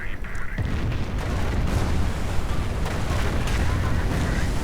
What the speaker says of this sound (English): More Calliope barrages doing more and more damage